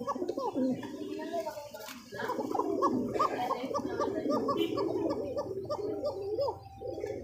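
Red magpie pigeons cooing near the microphone in repeated low rolling coos, a steady run of calls at moderate loudness, with some background voice beneath.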